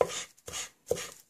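Mushrooms chopped with a small knife on a board, three crisp, close chops evenly spaced, with no talking.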